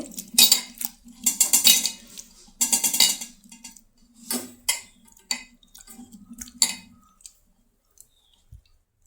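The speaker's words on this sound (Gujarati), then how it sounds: "પછી આપણે જે બધા જ મસાલા નાખ્યા તેને આ રીતે સારી રીતે હલાવીને મિક્સ કરી લેવાના છે।" A spoon stirring buttermilk and spices for kadhi clinks and scrapes against the pot in quick bursts, close and fairly loud, then trails off into sparse taps.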